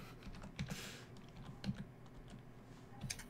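Computer keyboard keys are pressed during a Minecraft server game session, sparse clicks in small clusters spread over a few seconds, quiet and close, with no voices.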